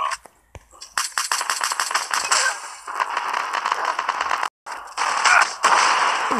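Rapid bursts of gunfire from a Call of Duty Mobile match, loud, close-up sharp shots in fast volleys with brief gaps and a short silence partway through.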